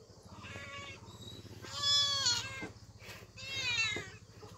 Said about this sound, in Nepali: म्याउ, यता हेर, सुरी आइज